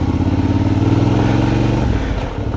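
A Suzuki V-Strom motorcycle engine running close and loud in a forest setting, a steady throbbing idle that shifts and eases near the end.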